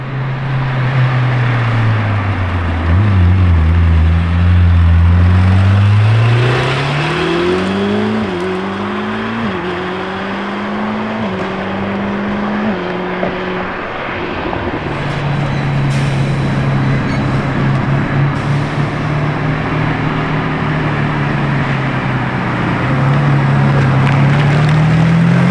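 A Lamborghini Revuelto's hybrid V12 engine revs in a deep, loud drone, its pitch climbing through several stepped rises before settling back to a steady rumble and swelling again near the end.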